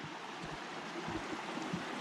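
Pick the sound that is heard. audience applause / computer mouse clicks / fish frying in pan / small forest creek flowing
small forest creek flowing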